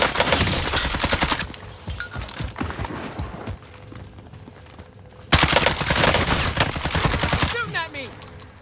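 Rapid automatic gunfire from a Call of Duty match, loud sustained bursts with a short lull before another long volley, under excited player chatter.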